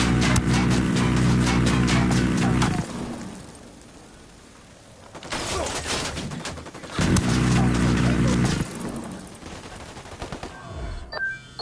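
Enemy turret firing in Ghost Recon, long rapid automatic bursts rattling loudly in two main stretches with a quieter gap between, plus scattered shots near the end.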